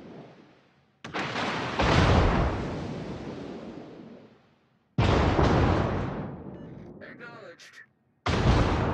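Warship main-battery artillery fire in the naval game World of Warships: three loud booming salvos, each a sharp blast trailing into a long rumbling decay, spaced a few seconds apart.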